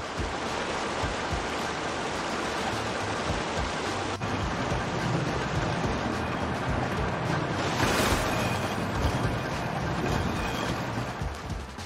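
A fan-powered amphibious contraption in Zelda: Tears of the Kingdom glides across water, giving a steady, loud whoosh of fan and splashing water with a brief rise near the end and no voices.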